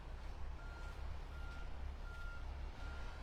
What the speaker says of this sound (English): The beeping of front end loaders.